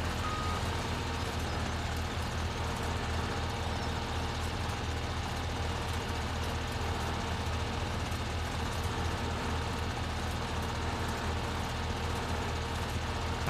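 A truck in Farming Simulator 17 reverses with a steady, loud series of backing beeps repeating evenly over a low engine rumble, with no talking.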